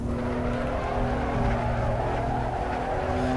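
A BMW M4 on street tyres in the racing game Assetto Corsa, its engine droning steadily at mid revs with a constant harmonic whine and no voices over it.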